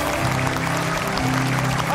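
Studio audience applause on an Indonesian television talk show, a steady wash of clapping lasting the whole moment, with low sustained tones from the studio sound running beneath it.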